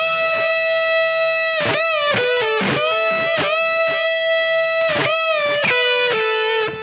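Distorted electric guitar plays a riff phrase twice through, crisp repeated notes ringing out loud and alone with no talking.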